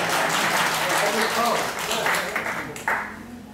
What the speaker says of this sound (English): How about applause for Ivor?